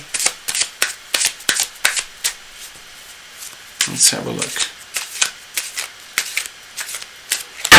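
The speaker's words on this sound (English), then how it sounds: "Okay, we're nicely shuffled." A deck of reading cards shuffled by hand, a rapid series of crisp riffling snaps in an irregular rhythm, close and loud, with a brief spoken line partway through.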